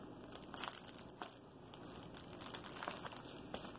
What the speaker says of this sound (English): Okay, so I'm going to tape it down.